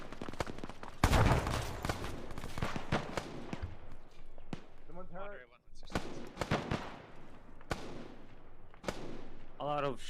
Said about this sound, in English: A lot of shooting from the west